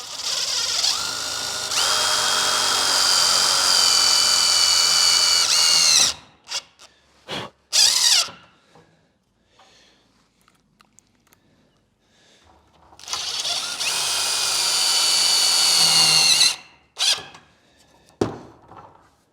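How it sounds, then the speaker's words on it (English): A power drill drives self-tapping tech screws through wood into metal for an adjustable van bed, two long loud whining runs of several seconds each, separated by quieter clicks and handling noises. "all you got to do is drill through the wood, drill into the metal, and it self-taps in there and holds nice and tight."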